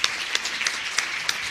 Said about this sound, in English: So let's give all of these a great round of applause.